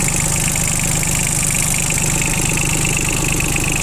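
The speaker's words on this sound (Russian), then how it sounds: "Стандартный трехцилиндровый двигатель Янмар" A Yanmar three-cylinder diesel mini tractor engine idles steadily and smoothly, a low even rumble with a soft mechanical hum, close by and unbroken throughout.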